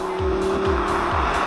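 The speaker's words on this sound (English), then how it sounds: "this car happens to be equipped with the Akrapovic exhaust, which, well, as you can hear in the background, sounds pretty fucking incredible" A 2017 Audi R8 V10 fitted with an Akrapovic exhaust, its engine droning steadily with repeated low rumbling pulses, heard loud and close throughout without talk.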